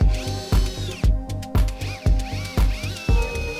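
A power drill drives screws to fasten an L bracket while fitting an electric waste water valve in a camper van, with close, loud bursts of whirring that repeat roughly every half second, each rising and cutting off sharply.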